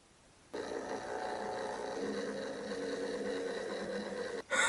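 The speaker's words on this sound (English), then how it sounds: "Let's go ahead and print a sample." A Berg Little Printer runs a sample print, giving a steady mechanical whirring and buzzing that lasts about four seconds at moderate loudness, then stops with a brief click.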